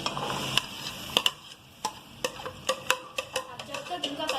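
Onions fry on a stove for soybean keema: a faint, crackling sizzle broken by sharp little ticks and pops, with occasional soft scraping in the pan.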